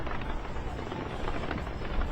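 New Year's 2024 fireworks over the Burj Khalifa in Dubai, a dense continuous roar of crackling bursts and rumbling booms heard at a distance, steady throughout.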